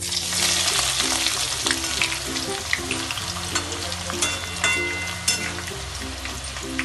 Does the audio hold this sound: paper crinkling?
no